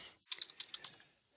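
Fingers tap quickly on a computer keyboard while a formula is entered in a GIS program, a faint burst of about a dozen light clicks with no talk.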